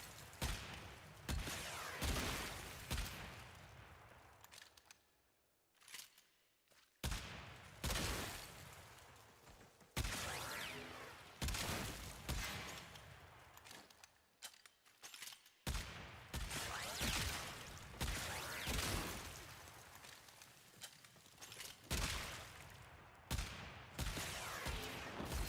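The Perigale Prime gun fires in a video game, loud repeated bursts of rapid shots with short pauses between volleys, continuing throughout.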